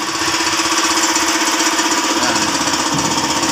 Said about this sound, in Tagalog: Buksan natin yung breaker natin.